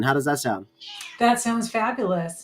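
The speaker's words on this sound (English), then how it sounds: "I hope my cat doesn't disturb you too much if you can hear it in the background." A cat meows faintly in the background during a recorded conversation, its brief cry mostly masked by the people talking over it.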